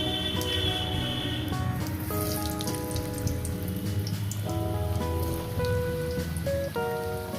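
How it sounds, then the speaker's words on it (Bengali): Potatoes fry in hot oil for a Bengali vegetarian dish with pumpkin and pointed gourd. A dense, rain-like sizzle runs steadily and close throughout, with a faint tonal hum underneath. "আলুগুলো নিয়ে আমি ভেজে দিই"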